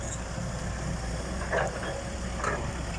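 A Kobelco SK200 excavator clearing forest and filling land runs with a steady low diesel rumble, fairly close and even throughout, with no speech.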